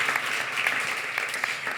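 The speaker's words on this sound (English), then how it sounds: "A big round of applause for Piper." Audience applause for figure skater Piper Gilles, a three-time Canadian ice dance champion, at a sports summit: steady, dense clapping from a crowd, fairly distant and even throughout.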